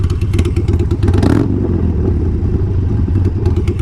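A Harley-Davidson motorcycle engine runs close and loud with a deep, lumpy idle rumble and a brief rev burst near the start, with no one talking.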